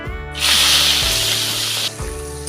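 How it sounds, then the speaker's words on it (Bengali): A sudden burst of hissing sizzle as salted, turmeric-coated shrimp drop into hot oil, holding steady for over a second before cutting off. "নুন হলুদ মাখানো চিংড়ি মাছগুলি ভালোভাবে ভেজে নেব"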